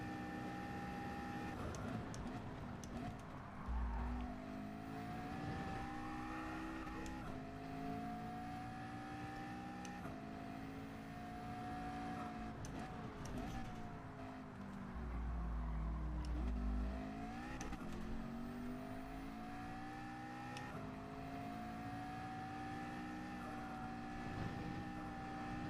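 A race car engine in Gran Turismo 7 on PS4 drones continuously, its pitch rising and falling as it revs and shifts gears, loud and steady throughout.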